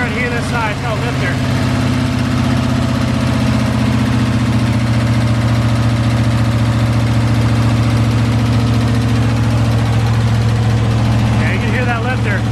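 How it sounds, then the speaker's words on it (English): A Ford F100 with a freshly installed engine idles close by, a loud, even rumble with a light lifter tick running through it, while voices briefly talk over it near the start and end. "Yeah, you can hear that lifter tick, damn it."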